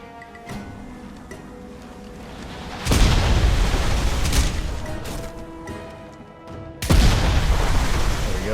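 A rocket launcher blows up a boat in Crysis, with two heavy, booming explosions a few seconds apart, each bursting loud and close before rumbling away over low background game ambience.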